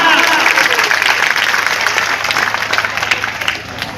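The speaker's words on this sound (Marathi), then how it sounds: "एकदा साहेबांसाठी जोरदार टाळ्या।" Loud applause bursts from a crowd at a public gathering for an honoured guest, dense clapping at full strength that gradually tapers off, with voices mixed in.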